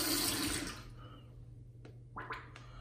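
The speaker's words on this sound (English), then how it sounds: "We can keep adding water." Water splashes and runs into a lather bowl as shaving soap lather (Murphy and McNeil Green Man Fougere) is built, a broad wash of sound fading after a second, then a few short wet drips and trickles, close and fairly quiet.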